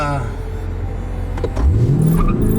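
A powerful car launches and accelerates hard from a standstill. The close engine roar climbs steadily in pitch as it pulls away, and a voice speaks briefly over it.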